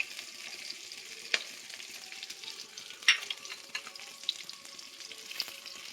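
Chopped onion and capsicum fry in hot oil with a soft, constant sizzle, broken by a few sharp pops and spatters. It is close and fairly quiet.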